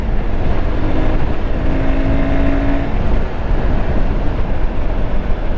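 A Royal Enfield Guerrilla 450 motorcycle engine on a ride, a loud, steady, dense rumble mixed with road and wind noise, with a brief tonal whine partway through.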